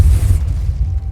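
A Depulso spell cast in Hogwarts Legacy lands as a loud, deep booming burst that fades over about a second, with no voice over it.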